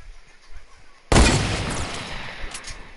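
A single sharp gunshot blast in a shooter video game, with rocket launchers around, cracks suddenly and loud, then trails off in a rumbling decay over about two seconds.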